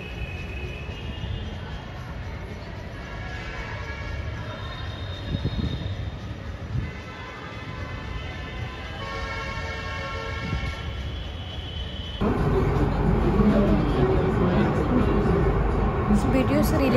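A Delhi Metro Blue Line train at Noida City Center station gives a steady rumble and hum, with tonal whines and a louder surge of rolling noise near the end, heard up close throughout.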